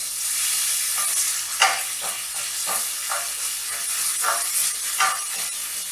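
Vegetables with jalapeno and chili flakes sauté in a hot pan, giving a steady close sizzle and hiss, broken by recurring stirring scrapes and rustles, with no voices.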